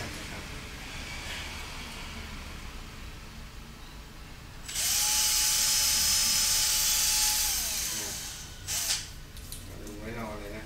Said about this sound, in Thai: เดี๋ยวเราเจาะรูไว้รอเลยนะครับ